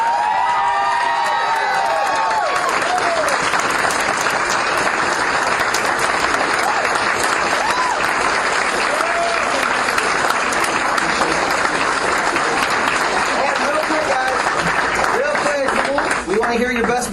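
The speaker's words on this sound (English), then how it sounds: "giving a huge round of applause for what they accomplished" A crowd at a promotion ceremony breaks into loud, continuous applause with cheers and whoops mixed in, dense clapping holding steady throughout with excited voices rising above it.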